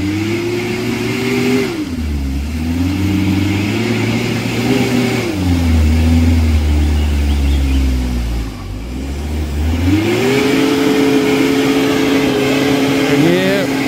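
A Mitsubishi Pajero engine revs hard climbing a steep off-road hill near Omkoi, its loud, close drone rising and falling in pitch as the throttle surges, eases and surges again.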